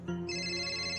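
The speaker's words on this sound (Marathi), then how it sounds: "आनंद भाऊजींचा फोन आहे" A phone ringtone starts abruptly and plays a steady electronic tone, clear and fairly close, with no one speaking.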